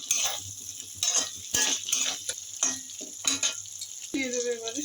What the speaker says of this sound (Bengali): আলুটাও দিয়ে দেবো এর মধ্যে, ভাজা আলু যেটা ছিল। সব কিছু ভালো করে মিক্স করে নেব।